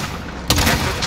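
Call of Duty Modern Warfare Warzone gunfire erupts partway through as a loud, close burst of shots over steady game noise, with voices mixed in.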